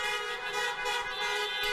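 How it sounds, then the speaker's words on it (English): Car horns blare in a steady, loud, overlapping chorus on a Chicago street hours after the Cubs won the World Series, sustained without a break. "honking their horns, you could say."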